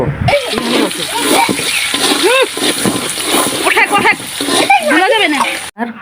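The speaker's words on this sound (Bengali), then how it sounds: "খিচুড়ি রান্না করার জন্য প্রথমে পেঁয়াজ দিব" Chopped onions go into a hot pan as the first step of cooking jackfruit khichuri, giving a sustained splashy sizzle that runs under a voice talking throughout.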